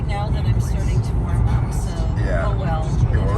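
Steady low road rumble and engine drone fill a car cabin on an early-morning highway drive west from Toronto toward Hamilton, continuous throughout, with voices talking over it.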